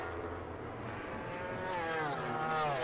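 MotoGP racing motorcycles at the 2019 Motegi race in Japan, engines whining steadily with rising revs as a bike sweeps past, loud and continuous.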